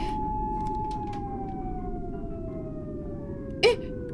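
Police car siren in the video game Tsugunohi, a steady wailing tone sliding slowly downward over a dense low rumble, heard alone with a brief thump near the end.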